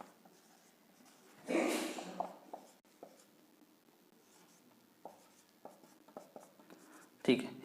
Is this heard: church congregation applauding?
no